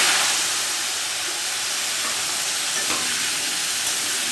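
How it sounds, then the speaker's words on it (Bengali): Potatoes frying in hot oil in a pan, a steady loud sizzle and hiss that holds throughout with no talking. "আলুটাকে আমরা লাল লাল করে ভেজে নেব।"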